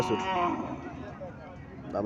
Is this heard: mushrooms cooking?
no